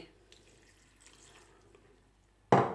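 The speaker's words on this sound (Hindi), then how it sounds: "तो इसमें मैं ऐड करूँगी 1/2 कप पानी।" Half a cup of water poured onto about a kilo of freshly grated carrots in a kitchen pot, a short loud splashing burst arriving at the very end after near silence.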